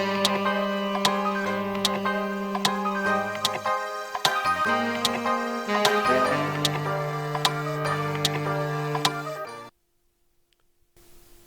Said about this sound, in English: I then added a saxophone from Decent Sampler